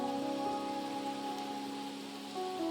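Rain falls in the video game Wuthering Waves, a steady wash of drops patters on surfaces while a soft tonal music bed drones underneath, no voices.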